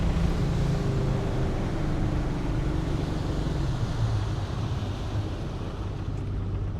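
Wellcraft boat idling down on open water, a low steady engine rumble under constant wind buffeting and lapping water, close and continuous for several seconds.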